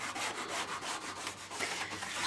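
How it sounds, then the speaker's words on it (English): A slot car track is sanded by hand with 120 grit sandpaper, giving quick, even back-and-forth scratchy strokes in a steady rhythm, close and moderately loud with no talking. "So here I am tackling it with the 120 grit."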